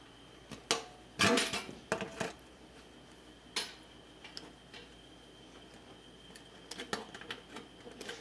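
Sheet metal being shrunk for a 1965 Thunderbird patch panel, scattered metallic taps and clanks at an irregular pace, fairly close but modest in level, with quiet gaps between strikes.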